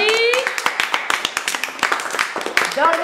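An audience claps for children performing a play of the gingerbread-cake tale, a scattered, uneven applause of hands close by, with voices speaking over it near the start and end.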